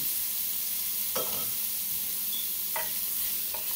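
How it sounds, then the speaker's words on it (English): Shrimp sauté in melted unsalted butter in a pan for homemade shrimp fried rice with cabbage, a steady close hiss with a few brief scrapes and clicks, and no voices. "now that our unsalted butter has melted, I'm going to just go ahead and add the shrimps in"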